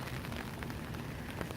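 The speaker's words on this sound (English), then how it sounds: "Raining," Steady rain falls during Hurricane Irma as a dense, continuous patter that holds an even level throughout, with no voices.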